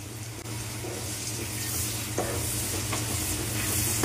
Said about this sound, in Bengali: দেখো পেঁয়াজটা কিছু ভাজা ভাজা হয়ে এসেছে